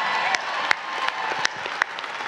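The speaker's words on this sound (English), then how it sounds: "I appreciate the clap" An audience at a technology conference applauds, a sustained patter of many hands clapping with a few sharper claps standing out.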